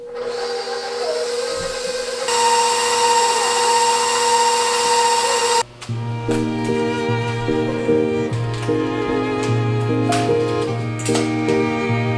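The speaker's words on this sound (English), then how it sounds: "Now we'll take it over to the mixer and mix it all up" A stand mixer whirs loudly and steadily up close, its motor pitch shifting once as it works dough. A rhythmic mechanical churning and knocking continues throughout, with no speech.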